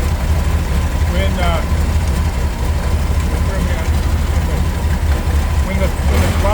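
A VW engine fitted with an EMPI Pict 3 carburetor idles with a steady low rumble, loud and close, while someone talks over it.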